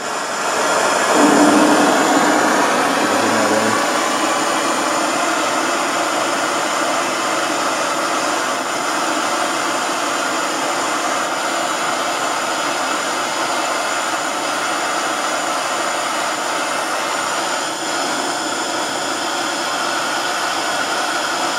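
A blowtorch flame roars steadily against an aluminum part clamped in a vise, burning off old JB Weld; a loud, constant broadband hiss that starts with a brief flare and holds unbroken throughout, with no talking.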